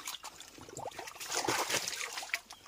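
Water trickles and splashes as feet are washed at a spring on a farm, a soft, uneven dribbling that swells and fades across a few seconds with small splashy bursts.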